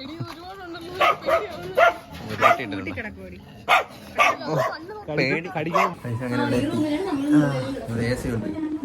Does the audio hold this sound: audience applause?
no